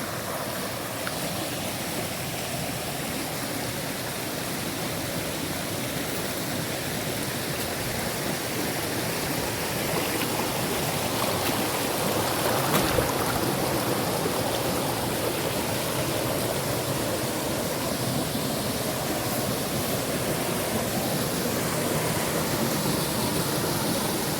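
A natural waterfall along the uphill path to mountain rice fields in Laos pours in a steady, dense rush of water, loud and close throughout, with no voices over it.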